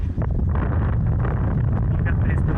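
Strong wind blowing across ice, a loud constant low roar and buffeting rumble right at the microphone throughout, with a voice talking faintly underneath.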